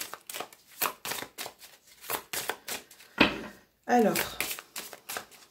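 Oracle cards being shuffled by hand, a series of crisp riffling bursts repeating in an uneven rhythm close up, with someone briefly speaking French over them.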